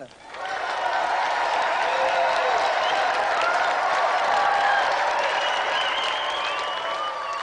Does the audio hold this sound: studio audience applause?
yes